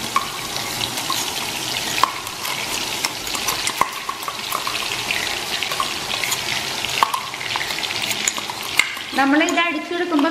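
An herbal paste hits hot coconut oil for a homemade hair oil and sizzles, a constant crackling hiss with sharp pops and stirring scrapes close by, and a brief watery rush near the end.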